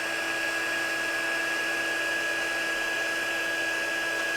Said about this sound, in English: I don't know if you can hear me over the heat gun, but I am letting it heat up for a couple seconds here